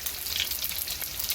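Mustard seeds, chillies and curry leaves tempering in hot oil in a pan, giving a steady, close, busy sizzle with faint crackles throughout, and no voices.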